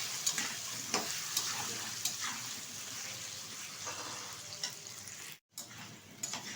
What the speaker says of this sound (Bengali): একটু ভালোভাবে নেড়ে ফেলে নেব কচুটা আর এই লঙ্কাটা তেলের সাথে